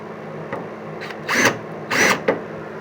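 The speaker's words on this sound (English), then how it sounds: "Take your Bauer impact gun. This is perfect for drilling into old beat up jackets." A Bauer impact gun drills into an old, beat-up boiler jacket, giving two loud whirring bursts with a few lighter clicks and taps between them, close up, with no talk.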